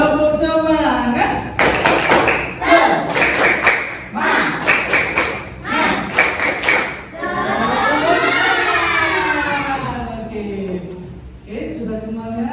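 A classroom of young pupils performs a rhythmic spirit clap in a mathematics lesson, with bursts of sharp group claps in patterned beats alternating with children's chanting voices, loud and close.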